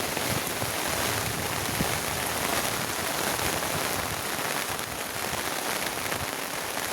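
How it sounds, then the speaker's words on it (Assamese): Rain falls steadily on a field and a rural path beside bamboo, seemingly onto an umbrella, making a dense, even patter of drops that continues unbroken at moderate loudness, with no voices. "বৰষুণ দেখুৱাওঁ বুলি আপোনালোকক দেখুৱাই দিছোঁ"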